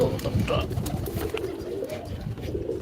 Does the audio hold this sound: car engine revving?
no